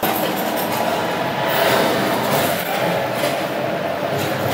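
A train rumbles past a railway crossing in a training simulator, with a steady, loud, broadband roar and faint rhythmic rail clatter, continuous from start to finish.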